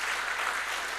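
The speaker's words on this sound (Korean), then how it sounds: "우리 크게 박수로 우리 사랑과 격려를 해주시고" A church congregation applauds, a dense, steady wash of clapping that fills the whole brief moment.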